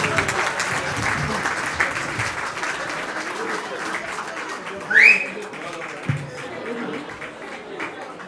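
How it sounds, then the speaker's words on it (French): Audience applause for an honoree at an independence ceremony, a sustained crowd clapping with scattered louder claps and a brief sharp accent midway, with faint voices underneath. "Applaudissez s'il vous plaît parce que c'est quand même une grosse contribution."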